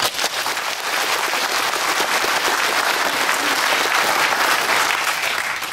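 Dense, steady applause from a ceremony audience at a funeral honor guard launch event, loud and sustained throughout with no break and no clear talk over it.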